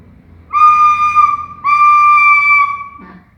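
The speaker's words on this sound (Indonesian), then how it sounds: "Suara seruling yang ibu tiup." Two sustained, bright bamboo flute (seruling) tones, each held for about a second, clear and close, followed by a brief low sound.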